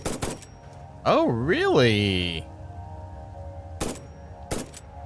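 Rifle Mk.1 gunshots in the video game Satisfactory: a sharp shot at the start and two more near the end, loud broadband cracks separated by pauses, while someone speaks in a rising, wavering voice in the middle.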